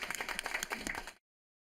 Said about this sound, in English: So a big round of applause to you all.